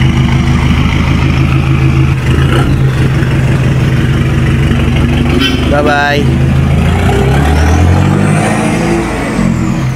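A Suzuki Raider 150 motorcycle idles close by with a steady low engine rumble, then revs up and pulls away, its tone rising and fading near the end, while people talk over it.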